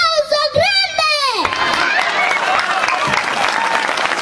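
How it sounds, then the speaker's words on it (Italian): A festive crowd in Perdasdefogu breaks into loud, sustained applause with cheering and children's shouts, opening over a voice before settling into a dense, steady wash of clapping. "un bel applauso grande!"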